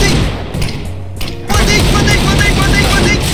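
Loud gunfire from CS:GO erupts in a dense clatter of rapid shots and thuds after a short, quieter stretch of scattered impacts, with voices mixed faintly underneath.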